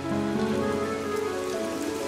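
Steady rain falls on surfaces in a sound drama, a soft, even patter with faint tonal background and no voices.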